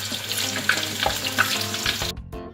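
Eggplant pieces frying in oil, a close, steady crackling sizzle with a few small pops that cuts off abruptly near the end.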